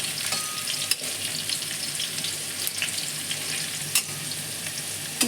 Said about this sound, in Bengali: এভাবে আস্তে আস্তে আলুগুলো ভেজে তুলে নেব